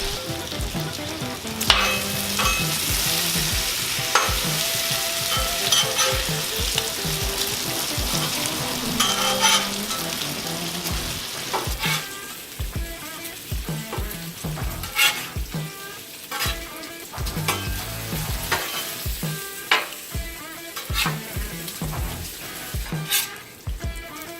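Bacon sizzles and crackles steadily on a 36-inch Blackstone griddle, a dense close frying hiss with scattered pops and occasional scraping or clinking of a spatula on the flat-top.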